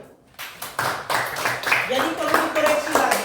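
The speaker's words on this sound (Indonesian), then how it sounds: "tepuk tangan dulu" Several people clap in a small classroom-like room, with sharp rhythmic claps that begin after a moment of quiet and build into uneven clapping while a voice talks over them.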